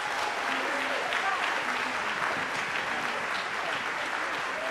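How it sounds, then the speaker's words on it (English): At a school band concert, the audience gives a round of applause for the students: sustained crowd clapping, fairly even and somewhat distant, with a faint voice briefly audible beneath it. "So can we give a round of applause for our students?"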